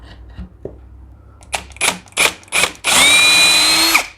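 A cordless power drill drives a bit into wood while building rear drawers, firing several short close bursts, then a longer sustained whine with a rising pitch as the motor runs, followed by a brief pause before it stops.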